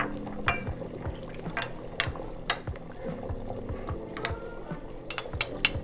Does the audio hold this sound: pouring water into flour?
yes